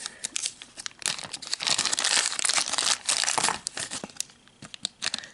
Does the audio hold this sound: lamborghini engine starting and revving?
no